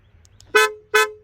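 Two short, loud horn chirps from a Hyundai Creta as it locks, evenly spaced and close, standing alone with no talking.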